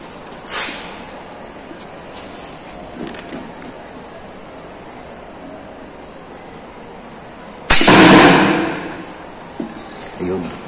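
A ZEBRA crossbow spear gun fires at a target with one sharp, loud release burst followed by a rushing decay, set among faint background noise and a few small knocks.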